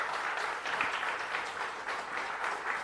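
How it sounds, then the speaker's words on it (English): Audience applause for sponsors and partners at the Jamaica Diaspora Conference global launch event, a steady, dense round of clapping from a sizeable crowd that holds evenly throughout with no talking. "I think they deserve a round of applause."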